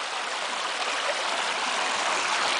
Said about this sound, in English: it also lets natural water flow go through here the way it naturally should